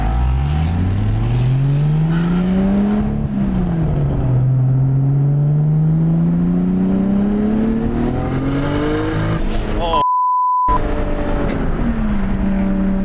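A 550hp Nissan R32 GT-R accelerating hard on the street, its engine note climbing steeply through the revs in loud rising sweeps, dropping briefly between gear changes before pulling up again.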